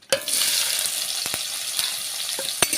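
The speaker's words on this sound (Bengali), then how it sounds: "পেঁয়াজটা হালকা লাল লাল করে ভেজে নেব।" Chopped onions frying in hot oil with bay leaves, dried red chillies and five-spice seeds, giving a steady close sizzle with a few sharp stirring clicks.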